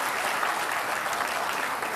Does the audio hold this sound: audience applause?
yes